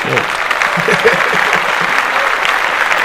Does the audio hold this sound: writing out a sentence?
no